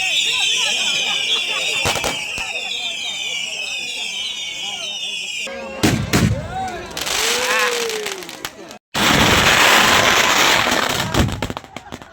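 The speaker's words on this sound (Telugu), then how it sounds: "వీళ్ళు 1 అవర్ వరకు నాన్ స్టాప్ గా క్రాకర్స్ అయితే ఫైర్ చేస్తూనే ఉంటారు." Firecrackers and fireworks go off at a dargah Urs festival with dense crackling bursts, whistling rockets and sharp bangs, near and loud, while people talk in the background.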